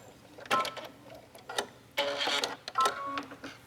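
Sewing machine back-stitching a hem on a knit t-shirt, short mechanical whirring bursts separated by brief pauses, close and moderately quiet with no voice.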